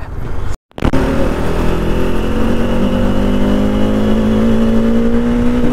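A motor vehicle engine running close and loud, with a brief cut near the start, then a steady droning hum whose pitch slowly drops as it drives along.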